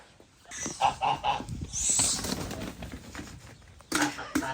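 Geese honk in a courtyard with loud, nasal calls in short bursts close by, mixed with people talking.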